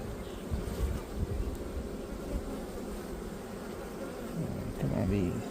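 Honey bees buzz continuously in and around a hive, a dense, steady drone with faint handling noises and light wind rumble mixed in.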